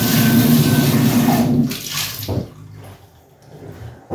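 Water pours steadily into a large cup of coffee, a loud splashing stream for about a second and a half, then it trails off into quieter trickles and a few small clinks.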